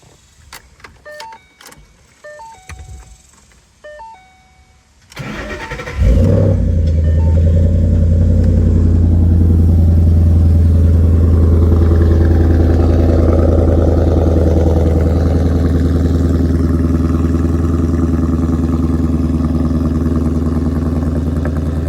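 A few light clicks, then the V8 engine of a 2013 Ford Mustang GT/CS cranks and roars to life, settling into a loud, deep, rumbling exhaust idle close by.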